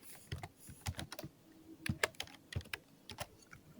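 Rapid, uneven keystrokes on a computer keyboard as Java code is typed into the BlueJ editor, close and fairly soft, with short bursts and brief pauses between clusters of taps.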